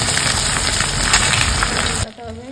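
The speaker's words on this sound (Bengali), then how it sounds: "এরপর এক করে ডিমগুলো ভেজে নেব।" Eggs frying one by one in mustard oil in a kadai give a steady, close sizzle and crackle, then drop abruptly near the end to a quieter background.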